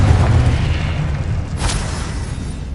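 A deep, loud explosive boom from a blasting spell in the Hogwarts Legacy wizarding game, a rumbling burst with a sharp crackle in the middle that fades over a few seconds, alone without talk.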